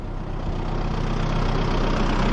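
A Massey Ferguson 3105 tractor engine idles nearby with a steady, throbbing mechanical drone that holds constant throughout.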